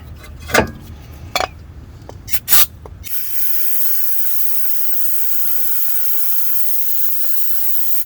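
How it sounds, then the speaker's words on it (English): Brake cleaner sprays onto a Lexus rear brake in a long continuous hiss lasting several seconds, preceded by a few short clanks and bursts of handling noise. "we're going to clean it out with a little bit of brake cleaner"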